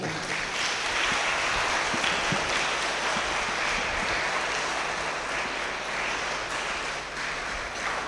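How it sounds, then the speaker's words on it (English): An audience claps steadily at a school investiture ceremony, a sustained dense patter of many hands in a hall that holds evenly for several seconds without talk. "So give a loud clap to him too."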